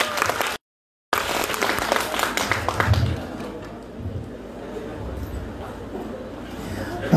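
An audience at the Trixie music lounge claps for a guitarist, a brisk burst of applause that briefly drops out and then fades after a few seconds into quieter room noise and voices.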